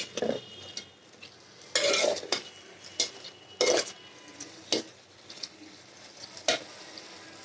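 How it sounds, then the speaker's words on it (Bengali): Vegetables for a prawn curry are stirred and sautéed in a pan: a spoon scrapes in repeated sharp strokes against the metal over a low, continuous sizzle. "একটু পানিতে দিয়ে দিচ্ছি আর একটু ঘোনা করে ফেলবো কষিয়ে ফেলবো"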